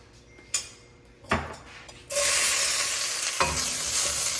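A few clanks of a pan, then oil and garlic bursting into a loud, steady sizzle over high heat for vegetable Hakka noodles, close and continuous, with a later knock of a utensil.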